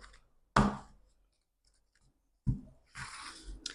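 A deck of oracle cards is cut by hand during a tarot-style reading, giving two short, close papery snaps and riffles separated by a pause, with no talking.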